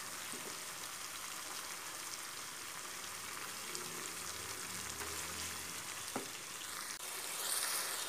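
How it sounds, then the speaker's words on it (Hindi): Pieces of beef pasanda fry in a yogurt masala over high heat, giving a steady, moderately quiet sizzle with a faint scrape near the end. "पसंदे डालने के बाद हमने इसको तकरीबन 2 से 3 मिनट तक इसके अंदर फ्राई करना है, मसाले के अंदर अच्छे तरीके से फ्राई करते हुए आंच को हमने तेज़ कर देना है।"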